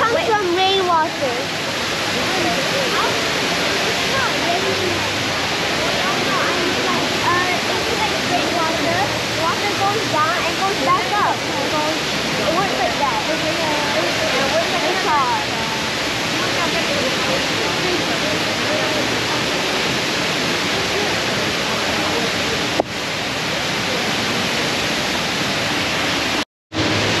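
The Rain Vortex, an indoor waterfall at Jewel Changi Airport in Singapore, pours down in a loud, continuous roar that holds steady for the whole stretch, with faint voices in the background.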